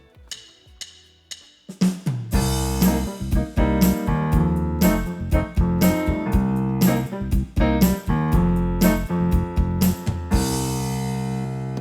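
A Yamaha P Series digital piano's rhythm accompaniment plays a steady pattern with a bass line and chords, loud and continuous after a brief sparse intro, no voices.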